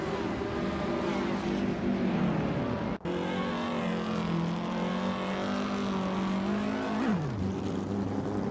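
Simulated Indy race cars from a video game drone loudly with steady engine pitch, one shifting down and back up, a brief gap mid-clip, then the pitch drops near the end; no talking.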